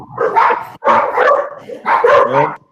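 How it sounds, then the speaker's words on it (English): A dog barks in three loud bursts with short gaps between them, yipping and whining, close by and with no talk over it. "We had the dog's background in there, Damo."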